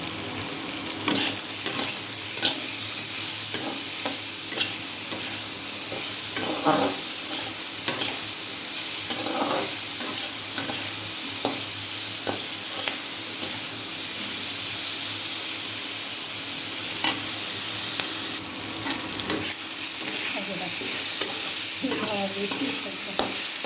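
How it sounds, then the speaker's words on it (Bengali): Food frying in a pan, a loud continuous sizzling hiss with repeated stirring scrapes and clatters spread throughout, heard close and without talk. "ভাজাটা এরকমই হবে বন্ধুরা"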